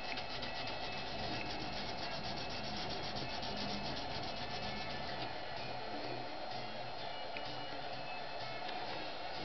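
Fine-grit abrasive sanding of a Massotiep straight razor during restoration, a continuous dense rubbing hiss with steady back-and-forth scraping, close and fairly loud throughout.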